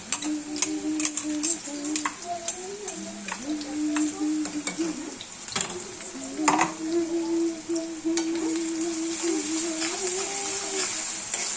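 Green chilli paste is stirred and fried in a pan for a dill leaf stir-fry, a continuous soft sizzle broken by scraping spoon strokes and light clinks of utensil on pan.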